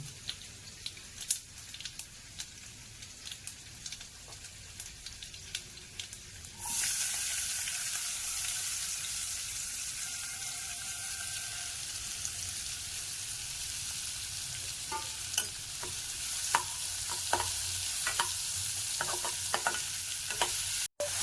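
Onions and curry leaves go into hot oil with mustard seeds, and a loud sizzle suddenly bursts up partway through, then keeps up a steady hiss with scattered pops and crackles, close by, without talk.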